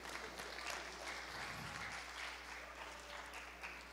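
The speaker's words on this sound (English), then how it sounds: "Butterfly, big applause," An audience at a smart city conference applauds steadily for several seconds, a fairly faint, even wash of clapping with no talk over it.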